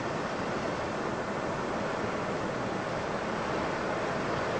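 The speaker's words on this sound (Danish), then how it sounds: "Og se der bølgerne." Waves surging from a calving glacier, heard as a loud, steady broadband rush of water and surf with wind buffeting the microphone, continuous throughout and without talk.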